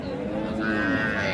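Cattle mooing at Raniganj livestock market in Dinajpur, where Sahiwal cows and calves are sold; a drawn-out low moo rises mid-clip over a steady crowded market murmur, close and fairly loud.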